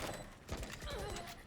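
Rapid gunfire from a Valorant esports match, a quick run of sharp shots over about a second, fairly faint and mixed with a commentator's voice.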